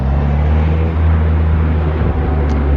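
Stage 1 tuned car engine running steadily nearby, a continuous low droning hum with a faint rise and dip partway through.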